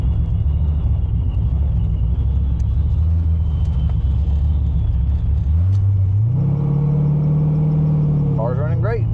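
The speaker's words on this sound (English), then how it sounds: "Car's running great." A car engine idles with a steady low rumble, then rises in pitch as it revs, close and continuous, with a voice briefly audible at the end.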